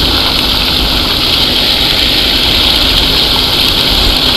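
A military vehicle engine revs at full power in the Roblox game A Dusty Trip, a loud, unbroken, droning roar with a harsh hiss, steady and close throughout with no talk.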